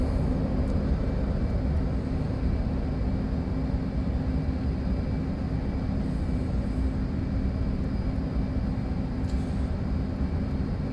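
An F/A-18 Hornet jet engine in the DCS combat flight simulator throttles up, giving a loud, steady, broadband roar that holds evenly throughout with no speech.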